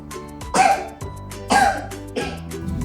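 A child coughs in three distinct bursts about a second apart, close and moderately loud, with a faint hum underneath.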